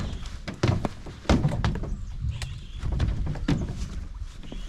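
A small boat rocking on the water in a wildlife reserve, with repeated hollow thumps and knocks of the hull at irregular intervals over a low watery rumble, close by.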